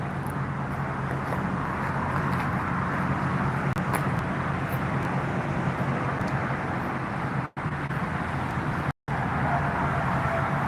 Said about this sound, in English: It's the M1 motorway.